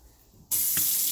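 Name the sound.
water running from sink faucet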